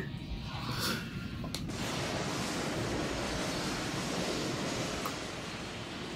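Waves and rushing water from an episode of the anime Trigun give a broad, steady surf-like roar with a brief whoosh near the start, loud and unbroken throughout, with no voices.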